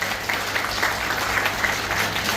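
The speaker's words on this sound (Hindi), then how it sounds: "एक बार जोरदार तालियों से इनका नाम के ऊपर आप अभिवादन कर सकते हैं" A crowd claps steadily, a dense patter of applause throughout, moderately loud with no talking over it.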